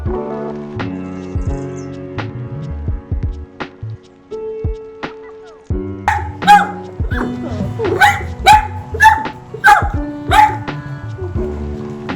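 Dachshund barking at another dog, a run of sharp, loud, close barks in quick bursts through the second half, after quieter thumps and tonal background sounds.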